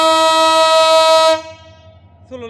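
The Parjotak Express at Chittagong railway station sounds a loud, sustained, harmonically rich horn blast that cuts off after about a second, leaving a low rumble before a short second honk.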